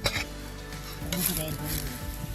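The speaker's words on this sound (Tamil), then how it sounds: "கொதிக்குது கொதிக்குதுங்க" Rice and food cooked together bubble and hiss steadily in a hot pot close by, a continuous busy simmering sound.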